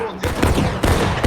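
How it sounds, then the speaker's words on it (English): Musket volley from the War of Rights video game, a dense crackling burst of many black-powder shots going off almost together, then a second ragged wave of fire, loud and close. "Union fired almost all their shots."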